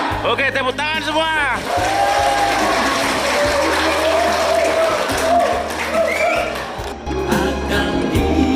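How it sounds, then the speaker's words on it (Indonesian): An audience at a company family gathering applauds, a dense wash of clapping that runs for several seconds while a voice speaks over it at the start. "Oke, tepuk tangan semua."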